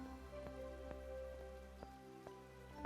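Rain falls in the video game Mask of Mists as a steady, soft patter over a faint sustained tonal hum, with a few light drops standing out. No one speaks.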